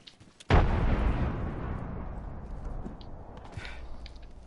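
A frag grenade detonates in Apex Legends, one sudden heavy boom that rolls into a long fading rumble, loud and close, with brief game noises around it.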